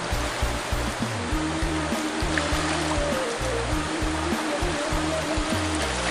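Water of a big river rushing past, a loud, steady broadband wash heard close up without a break, with a low rhythmic throb running beneath it.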